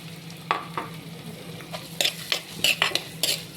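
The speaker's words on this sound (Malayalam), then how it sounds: "എന്നിട്ട് ഇതൊന്ന് നല്ലപോലെ ഒന്ന് വഴന്നു വരട്ടെ." Onion, green chilli, ginger and garlic sauté in hot oil in a pan while a pepper chicken dish is cooked. Metal utensils scrape and clink near the microphone in irregular strokes over a low, steady sizzle. No one speaks.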